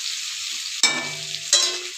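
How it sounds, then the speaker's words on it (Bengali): Potatoes fry in a pan with a steady soft sizzle, broken by two sharp surges of hissing and clatter as the food is stirred. "আমি ঢাকনা খুলে খুলে ভাজতেছি।"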